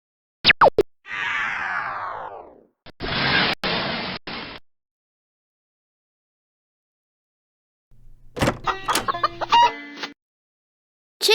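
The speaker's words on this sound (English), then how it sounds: "Chicken." Chicken clucking arrives in short bursts mixed with cartoonish plops and boinging effects, separated by a long stretch of silence, with no talking.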